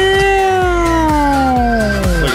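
A voice imitates a cat, giving one loud, drawn-out meow that slides slowly downward in pitch.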